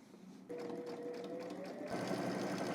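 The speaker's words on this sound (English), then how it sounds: "meet me at the machine and we'll get this stitched in the ditch" A sewing machine stitches in the ditch along a jacket cuff, its motor whirring in a steady close hum that runs continuously and picks up slightly near the end.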